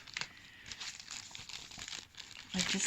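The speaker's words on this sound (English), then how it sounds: "I am demoulding some beautiful laser foils" Acetate laser foils for resin inclusions crinkle and rustle as they are unwrapped close by, with continuous crackling that swells louder near the end; a voice is faintly present.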